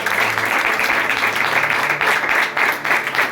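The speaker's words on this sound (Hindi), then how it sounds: "ये तालियों वाली बात है" Congregation at a church sermon breaking into steady applause, dense broadband clapping sustained throughout with a faint murmur of voices underneath.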